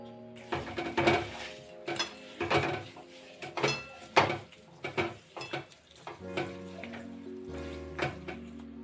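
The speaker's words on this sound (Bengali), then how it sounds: "এগুলোকে আমি হাত দিয়ে ভালো করে মেখে নেব।" Grated carrot being mixed by hand with milk and sugar in a pot for Bengali New Year laddu, with irregular squelching, stirring and clinks of the vessel close by, no talk.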